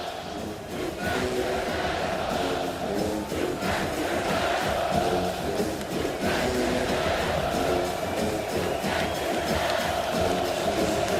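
A stadium crowd at a Texas vs Florida college football game roars loudly and continuously, a dense wall of cheering and shouting that swells slightly but never lets up.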